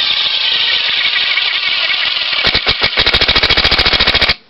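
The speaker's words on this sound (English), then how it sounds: "It'll just drive it right on in like nobody's business." A power driver whines loudly as it sinks a long screw with no pilot hole, then shifts into a rapid hammering rattle of impacts before stopping abruptly.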